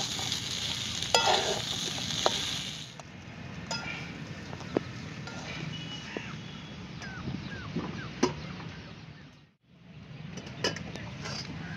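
Diced potato being sautéed and stirred in a pan for a fasting thalipeeth meal: a steady soft sizzle with scattered scraping clicks of a spatula, fairly quiet, briefly dropping out near the end before resuming.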